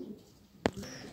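A pigeon coos close by in a loft with a short soft burst, set against quiet background hiss and faint ambient noise.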